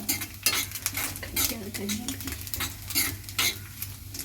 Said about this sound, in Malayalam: നമുക്ക് ചെറിയ തീയിൽ തേങ്ങ വറുത്തെടുക്കാം